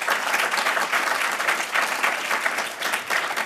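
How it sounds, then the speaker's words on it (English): Audience at a final debate event applauds warmly, a dense, sustained wash of many hands clapping at close range with slight swells, no speech over it. "Please don't get tired clapping."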